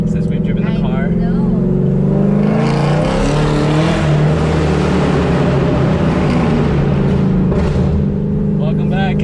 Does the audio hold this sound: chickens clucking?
no